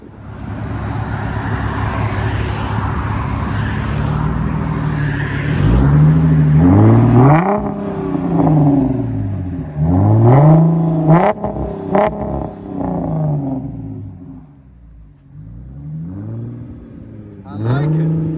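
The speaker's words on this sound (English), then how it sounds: "Dodge Challenger V6 LCGP mids, rear delete, 5-inch tip" A 2010 Dodge Challenger 3.6L V6 with an LCGP resonator exhaust, mid delete and rear delete and a 5-inch tip, is revved repeatedly. Engine speed rises and falls in loud, close sweeps over a steady idle rumble.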